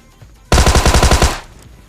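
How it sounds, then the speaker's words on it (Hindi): A burst of rapid automatic gunfire from a mobile battle royale game, roughly eight sharp evenly spaced shots that ring loud and close, then end abruptly with a short fading tail and no voices. "तो ये देखो भाई एक और फायरिंग के साउंड आते हैं।"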